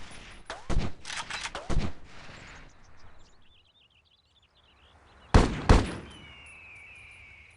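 Gunfire in the video game Delta Force Land Warrior: clustered bursts of sharp shots early on, a quiet gap, then two loud close cracks followed by a fading tail.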